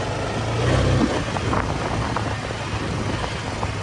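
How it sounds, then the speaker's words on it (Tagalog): Steady broadband rumble of wind buffeting the microphone outdoors, with low hum underneath and a few faint scattered clicks; no speech. "Ito lumalakas ang hangin."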